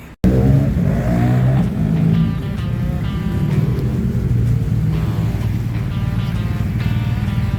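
A motorcycle engine on the move rumbles loud and close, rising and falling in pitch as the throttle and gears change, with a steady roar of wind and road underneath and no talk.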